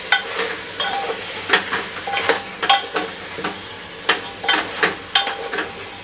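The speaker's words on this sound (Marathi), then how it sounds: "आपल्याला त्यात टाकूनच परतायचा हा कांदा।" Onion sautéing in a pan: a low, continuous sizzle under repeated scraping and tapping strokes of a spatula against the pan, coming in an uneven rhythm roughly every half second, close and moderately loud.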